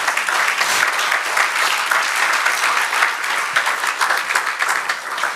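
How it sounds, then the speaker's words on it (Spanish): A church congregation bursts into loud, close applause during a sermon, a dense unbroken wash of many clapping hands that lasts about five seconds with no talking over it. "dale un aplauso al Señor"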